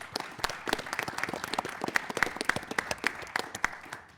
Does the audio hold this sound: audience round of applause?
yes